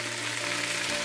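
Chicken for Cameroonian poulet DG fries in its juices in a pan, a brief, close, steady sizzle with a faint stirring rustle and no voices.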